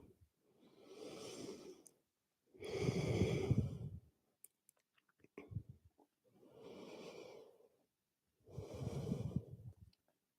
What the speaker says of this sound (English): Breathe into that hip joint.